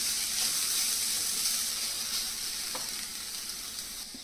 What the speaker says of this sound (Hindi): प्याज हम लगातार चलाते हुए भून रहे हैं